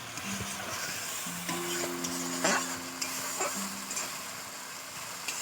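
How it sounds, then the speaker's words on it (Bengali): Spice masala being sautéed in oil for a pangas fish curry, a soft steady stir and faint sizzle with a few low hums and clinks throughout, no talking. "কাঁচারা গন্ধটা যতক্ষণ না যাবে ততক্ষণই কষাবো।"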